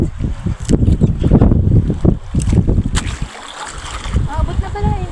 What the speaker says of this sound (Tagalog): Yung bangka, ang maliit.